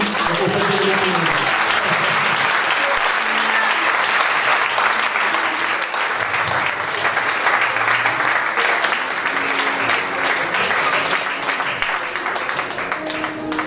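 A church congregation at a conference applauds loudly and continuously, a dense near clapping wash with voices rising through it at the start and scattered throughout.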